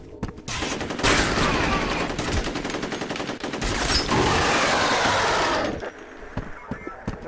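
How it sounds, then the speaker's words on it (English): Sustained automatic gunfire in the F.E.A.R. video game striking a pillar, a loud dense rattle of rapid shots running for several seconds before cutting off into a few scattered impacts. "I'm shooting a pillar."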